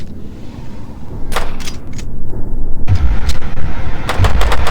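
Gunfire in the video game From the Fog: a few sharp, separate shots rather than a sustained burst, over a loud rumbling game background.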